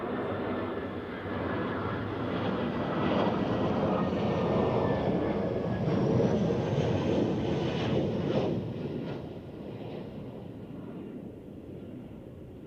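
An Edelweiss airliner at Zurich Airport in a Christmas Eve crosswind, a broad engine roar that swells and holds for several seconds, then fades as the aircraft passes, with wind buffeting the microphone.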